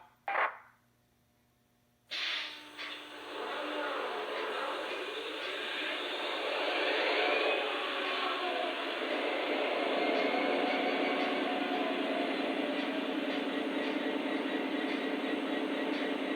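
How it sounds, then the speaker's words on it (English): Lionel Legacy Union Pacific model train locomotive starting up: a short tone, a pause, then a steady diesel-like engine roar that builds and holds as a continuous close drone. "Now that I have the locomotive fired up"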